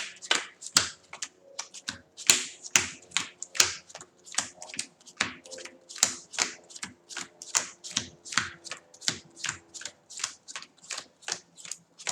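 Playing cards for the Marvel Champions card game are shuffled over and over in quick riffling bursts, crisp and close, with short pauses between each pass.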